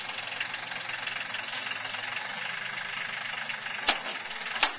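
A tractor engine idling on a ranch: a steady, close mechanical drone with even vibration throughout, interrupted near the end by a couple of short sharp knocks or clicks.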